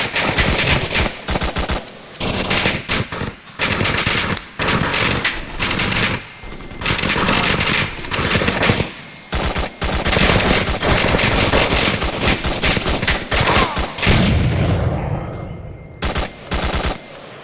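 Loud, close automatic weapon fire in the VR shooter game Onward, with repeated rapid bursts broken by short pauses, continuing through most of the stretch before trailing off.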